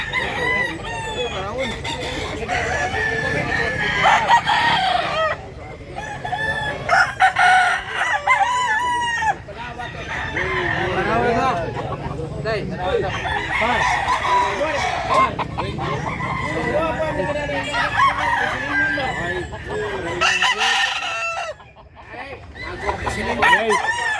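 Roosters crow repeatedly and chickens cluck throughout a busy gamefowl market in Mantalungon, Barili, Cebu, the calls overlapping at close to mid distance while people talk in the background.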